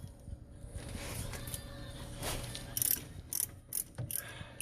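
A ratchet unthreads loosened bolts in a few quick, close clicking bursts near the end, over a low background hum, with no talking.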